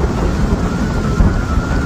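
A thunderstorm in the Baby Bus airplane game, a loud, continuous low rumble with windy, rain-like noise filling the whole moment and no voices.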